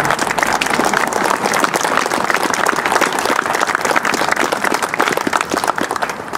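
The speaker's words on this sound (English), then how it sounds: "Let's give a round of applause to all those who have served this country." Sustained audience applause at a township Veterans Day ceremony honoring those who served, dense steady clapping from a crowd filling the room without pause for several seconds.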